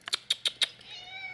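Black cat meowing close by, four short quick chirping meows in a row followed by a longer drawn-out mew that fades, in a quiet room.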